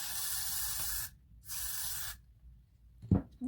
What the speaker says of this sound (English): Spray some little bit of Got to Be Loose braid.